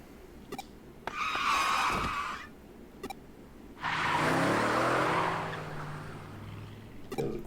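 A truck skids past with screeching tires in two loud, close bursts separated by a short gap, and the second burst is longer and trails off under a low engine rumble. No one speaks.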